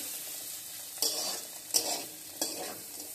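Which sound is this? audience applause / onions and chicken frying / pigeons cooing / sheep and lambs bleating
onions and chicken frying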